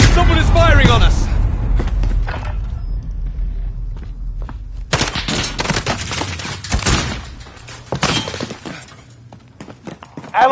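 Shooter-game gunfire cracks in loud bursts with shattering impacts and rumbling blasts, coming and going in irregular clusters, with radio-style game voices and talk mixed in.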